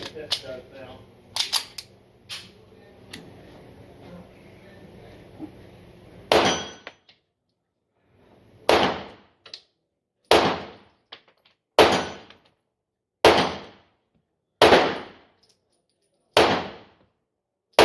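Ammo Inc. ammunition fired at a shooting range, heard as a series of sharp, loud gunshots spaced a second or two apart, with some quieter knocks and background noise before the first shot.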